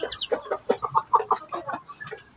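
Chicks and a mother hen cluck in a backyard, a busy run of short close calls and peeps overlapping in an uneven rhythm with no talk.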